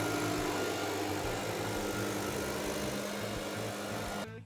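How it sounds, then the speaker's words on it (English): A blower runs steadily and loudly up close as it pushes hedge clippings under bushes, a constant whirring roar that cuts off abruptly at the end. "You can take the blower, blow the rest of it up underneath the bushes"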